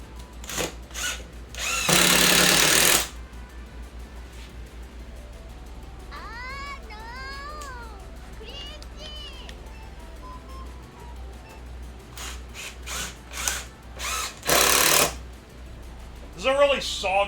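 A power drill driving bolts into the frame of a homemade candy-guarding robot, with two loud bursts of a second or so each, one early and one late, between quieter stretches where voices talk.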